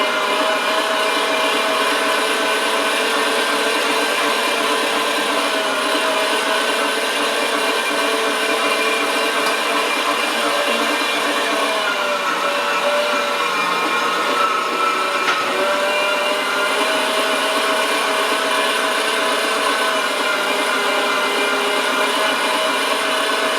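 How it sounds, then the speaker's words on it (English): An electric meat grinder works venison for summer sausage, giving a steady, continuous motor whine with a grinding rasp that stays loud and even throughout, with a slight dip in the middle and no talking. "strangely satisfying about grinding meat."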